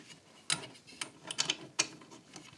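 Bolts on a mitre saw stand are secured with washers and wing nuts in a small workshop, giving a handful of faint, close metallic clicks and ratcheting ticks, spaced irregularly, with no talk.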